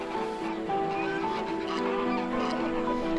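A pair of aggressive domestic geese in a wetland honk at cranes, harsh nasal calls repeating in overlapping bursts, close and fairly loud against outdoor background.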